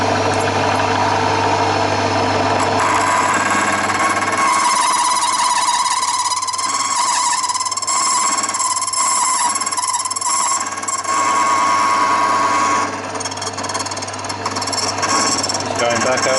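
A key cutting machine grinds a blank into a key, a steady motor whine with a rasping, filing cut running continuously up close, with a voice talking faintly underneath.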